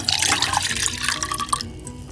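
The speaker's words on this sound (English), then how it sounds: "In a saucepan, combine red wine" Red wine pours steadily into a saucepan with a continuous trickling, splashing stream up close. The pour tapers off near the end.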